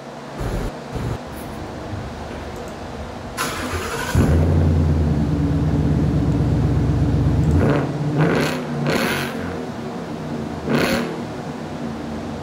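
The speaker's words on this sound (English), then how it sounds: "let me go ahead and give you guys a couple of sound clips on what the exhaust sounds like" Ford Mustang GT fitted with an SR Performance muffler delete, engine starting and revving: a few short blips, then a sustained deep exhaust rumble, followed by more sharp revs, loud and close.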